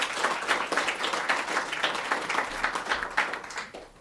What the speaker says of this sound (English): I think we should give a round of applause to the recipients